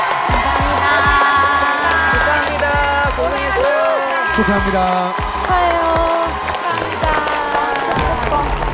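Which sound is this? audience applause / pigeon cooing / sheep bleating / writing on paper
audience applause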